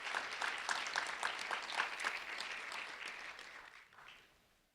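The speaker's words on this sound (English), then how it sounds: "A round of applause for Franco and Maria, please." Applause for two high school students at a recognition event, a room of people clapping steadily and fairly loud at first, then thinning out and fading away near the end.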